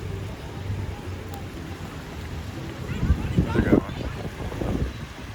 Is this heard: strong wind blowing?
yes